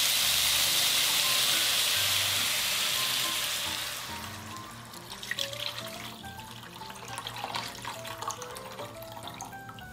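About one and a half liters of water poured into a pot of stir-fried meat: a loud rushing hiss for several seconds, then a quieter bubbling sizzle with light drips and clinks.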